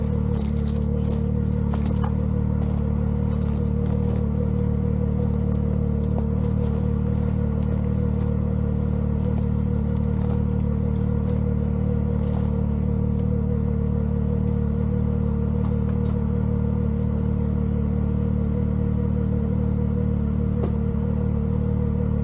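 An off-road UTV engine drones steadily and up close while it pulls a trailer with a winch on a trail. A constant low rumble runs throughout, with scattered light clicks and rattles over it.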